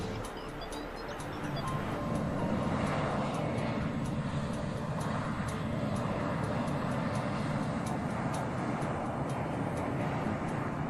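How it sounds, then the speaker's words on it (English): Boeing 757 jet engines spooling up as the airliner departs, a broad steady roar that rises after a couple of seconds and holds loud and continuous with a faint high whine on top. "John Duncan gets the 757 back in the air"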